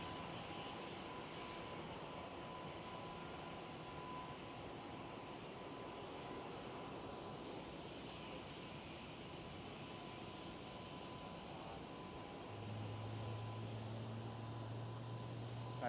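A Thai Airways Airbus A350 rotates on takeoff at Amsterdam Schiphol, its jet engine noise a faint, distant, steady drone that swells slightly toward the end.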